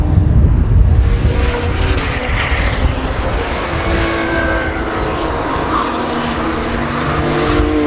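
Ferrari and BMW GT race cars roar past at Donington Park during a 2013 UK GT Cup round, a loud, sustained engine drone with rising and falling pitch and no break.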